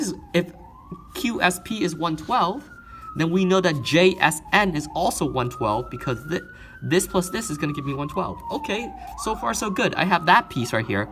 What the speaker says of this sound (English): Excuse the sirens, it's kind of going nuts out there.